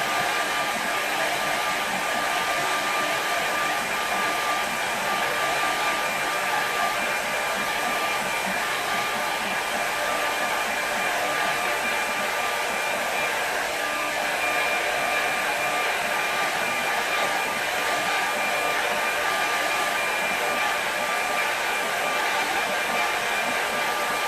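A hair dryer blows steadily on a watercolour painting of a waterside scene, a loud, constant close-up whoosh with a faint motor whine that runs unbroken throughout, with no talking.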